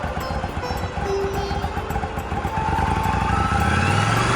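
Motorcycle engine running near, as the clutch is released slowly and the bike pulls away, with a steady chugging rumble that grows louder and rises in pitch.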